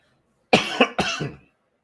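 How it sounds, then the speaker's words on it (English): Two quick, close coughs in succession, a sharp burst followed by a second, with silence before and after. "Turn my volume down when I coughed."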